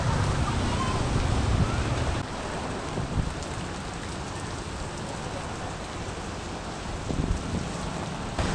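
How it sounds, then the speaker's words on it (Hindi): Steady heavy rainfall from a storm pours down as a dense, continuous wash of noise, loud and close, with a slightly heavier burst at the start, in Vietnam. "रेलवे स्टेशन जाने के भारी बारिश होने लगी है यहाँ पे"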